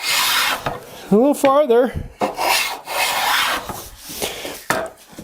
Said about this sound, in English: I'm planing all the way out to the end